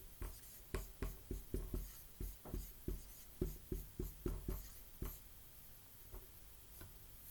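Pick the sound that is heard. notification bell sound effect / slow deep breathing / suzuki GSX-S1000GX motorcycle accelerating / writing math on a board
writing math on a board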